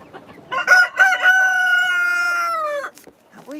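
A backyard chicken crows up close and loud in one long, drawn-out call lasting about two seconds, followed by a short cluck.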